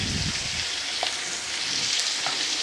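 Chicken and potato curry sprinkled with garam masala sizzles in oil in a pan, a steady close frying hiss with a few light spoon scrapes as it is stirred.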